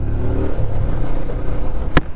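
TVS Apache 160 2V motorcycle pulling away under acceleration, a loud close engine drone rising and falling in pitch, with a sharp clatter near the end and no talking.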